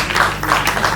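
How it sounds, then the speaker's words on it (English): Audience applause at a Lagos Business School Executive MBA symposium, a steady wash of many hands clapping that fills the whole second, fairly loud and continuous with no talk over it. "Can we give each and every one of us a round of applause?"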